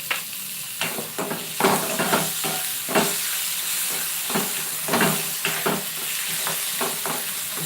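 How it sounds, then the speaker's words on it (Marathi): Finely chopped tomato drops into onions browned to a reddish colour in a hot pan for a quick prawn masala, bringing a loud, steady sizzle broken by repeated scraping stir strokes. "कांदा लालसर झाला की आपण लगेच यामध्ये एक बारीक कापलेला टोमॅटो आहे टमाटा आहे तो काय टाकून घ्यायचा आहे"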